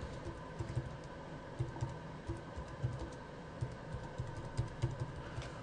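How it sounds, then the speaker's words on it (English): Someone types a medical search term on a computer keyboard. Soft, quiet keystrokes tap in an uneven rhythm for several seconds, with no voice. "So I'm just going to type that in here."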